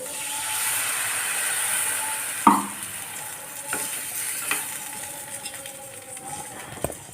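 Squid fries in a pan with a steady hiss, broken by a few sharp clatters of stirring.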